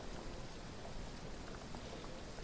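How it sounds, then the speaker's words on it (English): Steady, dense patter of rain in the video game Train Sim World 3 fills the whole stretch, an even hiss of drops with no voices, moderately loud and constant. "I'll just go into the rain, because why not?"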